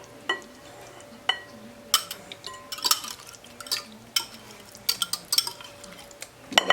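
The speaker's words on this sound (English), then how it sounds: "now to that, we're going to add in our pumpkin puree" Pumpkin puree being added to a mixing bowl and combined for a pumpkin pie filling, giving repeated clinks and scrapes of utensils against the bowl, with a steady low hum underneath and no talking.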